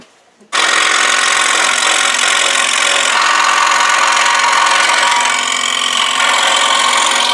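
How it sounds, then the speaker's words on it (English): A scroll saw fitted with a small blade cuts maple backer boards, starting abruptly and buzzing loudly and steadily throughout, with the blade's rasping tone shifting slightly partway through the cut. "let's move over to the scroll saw, put in a small blade, and start and cut out these two backer boards"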